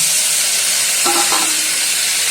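Curry frying in a pan with a loud, constant sizzling hiss, a brief scrape or knock of the stirring spoon partway through, and no voices.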